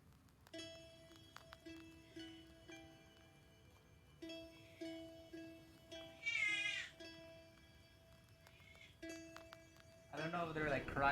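A cat meows inside the video game Black Book: several short mews, then a louder drawn-out cry near the middle and another at the end, heard over soft game music with no speech.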